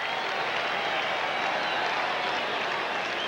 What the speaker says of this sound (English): Crowd here at Fenway roaring on every pitch.